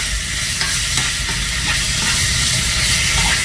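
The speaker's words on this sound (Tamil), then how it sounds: "இந்த ஸ்டேஜில் நம்ம இந்த சிக்கன் ஆட் பண்ணிக்கலாம். ஆட் பண்ணி நல்லா வதக்குங்க" Chicken sautés with ginger and garlic in a pan, a loud close hissing sizzle punctuated by repeated scraping strokes of a stirring spoon, no voices.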